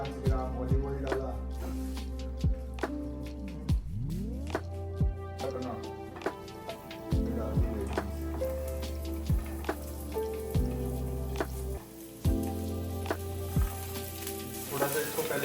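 Sliced zucchini and long-cut carrot sizzle in olive oil in a pan, a steady close frying hiss broken by clinks and stirring knocks, with a faint voice now and then.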